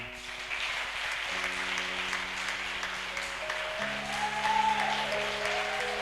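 A church congregation applauds in sustained, dense clapping that swells slightly toward the end, with a low tonal hum beneath it.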